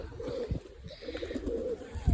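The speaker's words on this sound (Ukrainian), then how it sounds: "дивіться, які голуби" Pigeons coo nearby in two soft, throaty bursts with a short gap between, along with light rustling and a faint thump.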